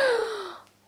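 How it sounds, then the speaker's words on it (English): A single sharp intake of breath, a gasp with a falling pitch, loud at first and fading within about half a second, heard on its own. "And gasped"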